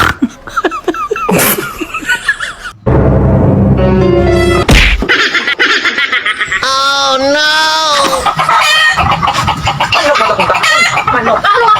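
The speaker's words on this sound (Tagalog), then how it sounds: "Manok." Chickens clucking and squawking close by, a series of sharp bursts and drawn-out calls mixed with bursts of human voices and laughter, loud and irregular.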